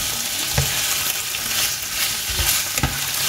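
Potatoes frying in oil in a home kitchen pan while being stirred, steady dense sizzle with occasional scraping knocks from the utensil, close and continuous.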